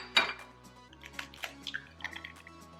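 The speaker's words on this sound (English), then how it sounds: "we're gonna be cracking our egg into our little container" An egg is cracked into a small container, giving a sharp tap followed by faint drips, soft clinks and wet splats, close and quiet with no talking.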